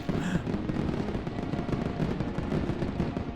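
Fireworks sound effect crackling and popping without pause through a Vampyr gameplay livestream, a dense, steady barrage of loud bursts filling the whole stretch with no talk over it.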